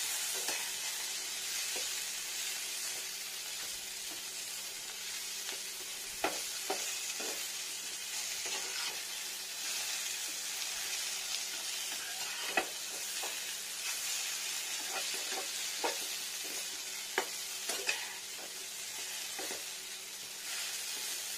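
Spice masala of finely chopped onion, ginger and garlic frying in a pan for a vegetarian pumpkin-stalk dish with chana dal; a steady close sizzle runs throughout, broken by scattered scraping clicks of stirring.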